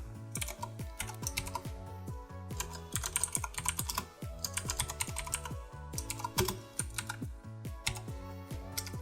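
Fingers type on a computer keyboard while code is written, a close, fast run of clicky keystrokes in bursts with brief pauses, with a low musical backing underneath.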